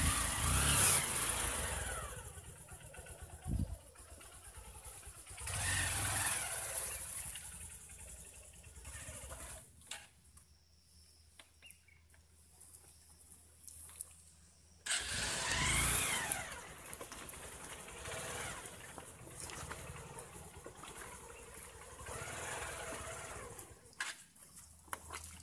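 Motorcycle and vehicle engines drone and rev on a mountain highway where motorcycles are stuck in a long queue, layered with wind buffeting and road noise, loud at times and dropping quieter midway.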